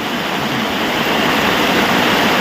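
Heavy rain pours down on Botad village in a dense, loud, unbroken roar of water that holds at the same level throughout.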